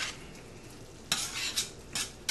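Breadcrumbs stirred into oil in a pan with the heat off, a faint low sizzle broken by several short scraping stirs of a utensil, close by and without talking.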